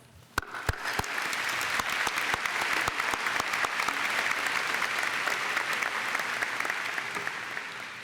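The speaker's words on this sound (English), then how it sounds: "give all of the parents here this evening a round of applause" Graduation ceremony audience applauding the parents, a large crowd's sustained clapping that swells quickly after a few sharp early claps and holds steady and full for several seconds.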